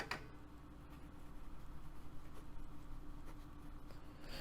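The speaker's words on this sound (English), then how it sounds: "I'm just writing this down" A pen moves over paper at close range, making faint, steady scratching with small ticks, quiet and without talk.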